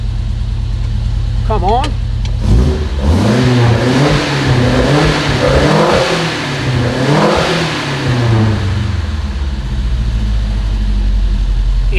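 A Volvo 145 engine idles, then revs up and down in rising and falling sweeps, loud and close; a voice speaks briefly under the engine noise.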